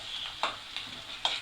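Crushed fennel seeds and curry leaves sauté in a pan for a Kerala coconut dish, giving a faint, steady sizzle. Three quick scraping stirs punctuate it, and no one talks.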